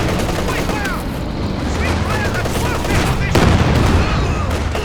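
Sustained machine gun fire, including a .50 cal, mixed with a grenade blast in a Company of Heroes 2 battle. The rattling is dense and continuous, with a heavier burst midway, under steady commentary.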